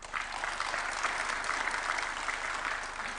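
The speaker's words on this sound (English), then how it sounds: "I kindly invite everyone to join me in giving a warm round of applause to these distinguished" Warm, sustained applause from an audience at a university charter award ceremony attended by a head of state, steady dense clapping that holds at an even level throughout without speech.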